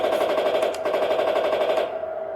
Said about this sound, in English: So let's see how the machine gun works.